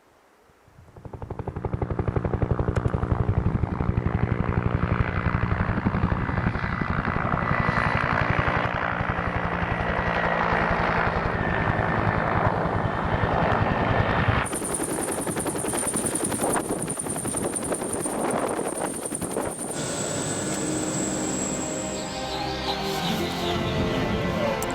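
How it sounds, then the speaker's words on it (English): A helicopter arrives for a pickup on the Greenland ice. Its rotor and engine roar swells in quickly and stays loud and close throughout, with no talking. "before the chopper woke us both from our dream"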